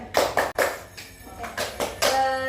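Hands clap in a group guidance session's appreciation routine, a few sharp separate claps spaced apart in small bursts, close and fairly clear, with voices faintly between them.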